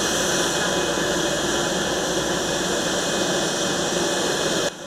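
A jet aircraft at Daskalogiannis Airport in Chania, Crete, just after landing, producing a loud, steady, broadband engine roar that holds constant before dropping off slightly at the very end.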